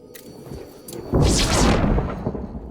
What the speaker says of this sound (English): I hate thunder early game when you don't have lightning rods